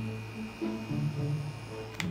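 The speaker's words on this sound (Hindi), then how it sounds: "इंसान की हड्डियों को हिला देने वाला बॉडी मसाजर।" A cheap battery-powered handheld body massager hums with a steady low electric buzz, faint and close, with a brief click near the end.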